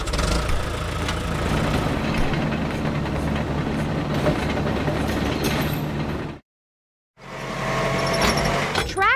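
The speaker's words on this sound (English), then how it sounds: "Road roller." A road roller's engine runs loud and steady for about six seconds, cuts to a short silence, then comes back just as loud with some higher tonal whine.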